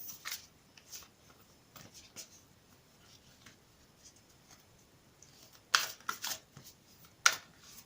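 Soft, quiet tarot card handling with light riffling bursts, two sharper clusters of quick ruffling later on, in a hushed room.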